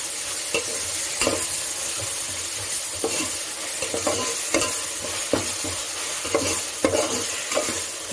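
Ginger garlic paste frying in oil for country chicken biryani, a steady close sizzle broken by repeated scraping strokes of a ladle stirring the pan, with no talk.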